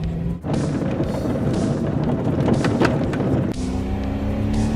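A 1985 Lamborghini Jalpa's 3.5-liter engine runs loud and steady with a deep throaty drone, pitch rising and shifting as it pulls, no voices.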